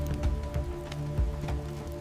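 Heavy freezing rain pounding during a violent storm, a dense continuous patter of drops striking surfaces, with irregular heavier hits and low rumbling beneath the steady wash.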